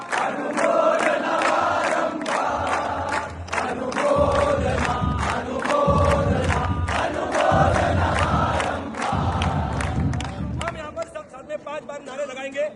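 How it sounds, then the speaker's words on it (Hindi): Crowd of mourners at a Jain guru's funeral rites in Pune Katraj, clapping and chanting in unison, with loud rhythmic bursts of collective voices over steady applause, rising and falling in repeated waves. "एक बार हम सब साथ में मिलकर तालियों के साथ हम कहेंगे अनुमोदना अनुमोदना अनुमोदना"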